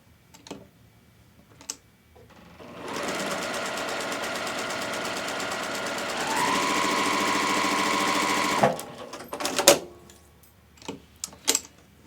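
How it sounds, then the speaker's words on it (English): Sewing machine stitching quilt fabric along a marked line at a 2.0 stitch length, a steady close whir of rapid stitches running for about six seconds and rising slightly before stopping, with clicks and handling noises around it. "we'll change the stitch on our machine and just sew directly on the line."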